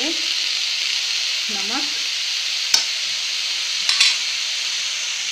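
Peas and spices stirred in a sizzling pan for methi matar malai sabji, a steady frying hiss throughout with a couple of sharp spoon scrapes and clinks near the end; a voice speaks a word briefly.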